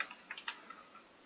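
Quick keystrokes on a computer keyboard while searching in the BeamNG.drive World Editor, a short irregular burst of close, light clicks with no talking.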